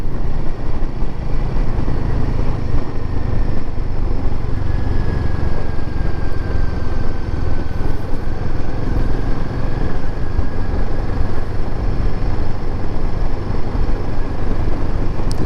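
Royal Enfield Himalayan 450 motorcycle being ridden, a steady continuous engine drone with wind rush and a faint rising tone mid-ride, no clear breaks for gear changes standing out.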